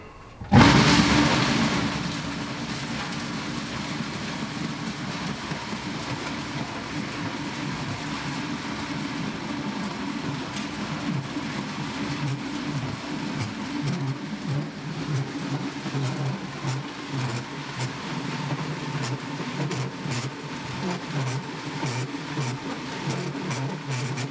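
A coal bunker filling machine for a Coal Gun 130 heating system runs steadily after being plugged in, a continuous close motor drone with a low rumbling churn that starts abruptly and holds level throughout.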